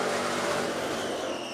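A race car engine roars loudly at high revs during the Rolex 24 at Daytona endurance race, a sustained dense howl as it powers away, gradually easing slightly toward the end.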